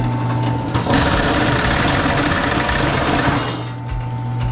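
An electric wire stripper machine stripping copper and aluminum wire gives a loud, continuous mechanical whir and grinding buzz that surges in the first second, holds steady, then eases slightly near the end, with no talking.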